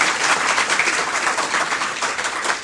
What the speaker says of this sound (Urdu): سارا اور حاجرہ کے لیے ذرا تالیاں بجا دیں آپ